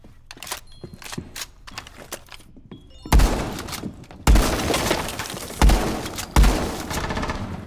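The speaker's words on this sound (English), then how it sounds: "Changing mags!" Gunfire and weapon handling in a Rainbow Six Siege ranked match, with several loud sharp bursts at the midpoint over ongoing game noise, where a magazine swap reload fits.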